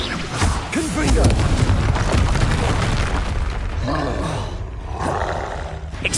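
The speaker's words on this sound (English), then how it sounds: "Just my luck, a troll." A troll's deep, growling roar in Hogwarts Legacy, rumbling alongside booming spell impacts and crashes in a noisy battle, with some voice mixed in.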